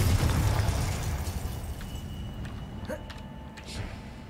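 Confringo fire spell blast in the video game Hogwarts Legacy: a loud, low rumbling burst at the start that rolls and fades over a few seconds under steady game ambience, with a few faint crackles.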